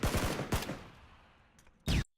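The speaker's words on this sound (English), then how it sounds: "I can use this chance to put a few rounds into him when he peeks to throw it." Bursts of SCAR rifle fire in a PUBG match: a few quick rounds at the start, a lone shot midway, then a loud sharp burst near the end, with quiet decay between them.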